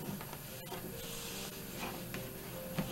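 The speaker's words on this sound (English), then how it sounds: "get to the sewing machine" A sewing machine stitches down a movie zipper, giving a steady, close mechanical whirr with faint ticking, running alone without talk for about three seconds.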